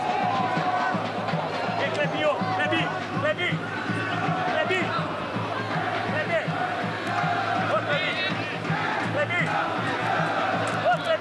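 Football supporters of Molon chant and shout in unison at an amateur second-division final at Toca do Leão da 13, a loud continuous crowd roar with voices rising and falling.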